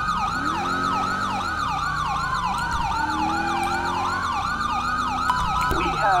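Police siren on a California Highway Patrol vehicle in the video game GTA 5, steady rapid wailing and yelping cycles, loud and continuous over faint engine noise, with no talking.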